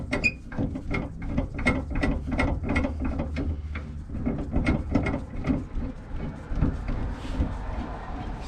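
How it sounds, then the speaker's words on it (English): Steady, rhythmic ratcheting clicks accompany the spring of a Roadmaster Active Suspension being screwed up by hand on a 2021 Ford F-150, close and continuous with a faint low hum beneath. "I'm just going to take some of the slack out of it here by hand screwing the spring back up."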